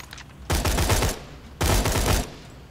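Attack Scorpio assault rifle in Borderlands 2 firing two long rapid automatic bursts, each about three quarters of a second, loud and close with a short gap between them.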